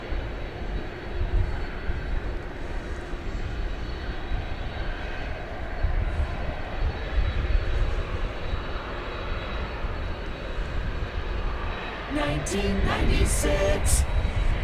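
A Boeing 767-300 airliner at DFW Airport, a sustained loud jet engine roar that swells slightly toward the end, with a few faint clicks and tones near the close.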